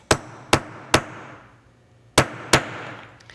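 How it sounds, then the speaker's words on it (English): Five sharp metallic brass hammer strikes on a rivet atop a block ring out, three in quick succession, a pause, then two more, each decaying briefly; no talking. "I'm using a brass hammer for this on top of my block, and just give it a couple of good whacks"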